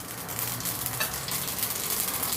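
Mustard seeds crackle and sizzle in hot oil, a busy, continuous hiss with scattered pops throughout, close up and with no talking.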